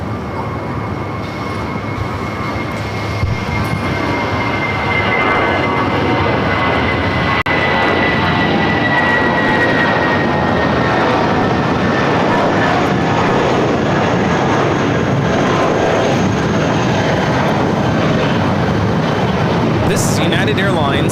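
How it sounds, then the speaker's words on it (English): A United Airlines A320 takes off from runway 25 right at LAX, its engines a loud, continuous roar that holds steady and broad for the full stretch. "United Airlines 276 taking off to Jackson on the A320"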